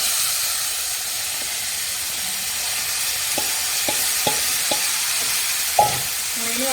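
Chopped galgal stirred into a turmeric spice mix for a sweet-sour pickle, a steady hissing sizzle broken by several sharp spoon knocks against the pan near the end.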